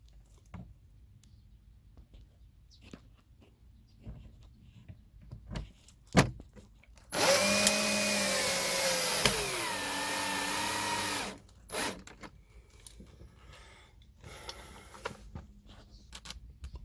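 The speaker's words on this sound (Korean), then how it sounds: "문짝의 볼트를 조이도록 하겠습니다" A power tool tightens a bolt on a car door, whirring in one sustained burst of about four seconds that drops in pitch as it bites, set among faint clicks and handling in a quiet space.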